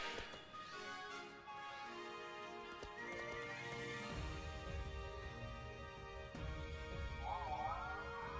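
The legendary horse Pokémon Glastrier whinnies loudly and gallops with rough, heavy hoofbeats in a Pokémon game, the neighing layered over a steady clip-clop throughout.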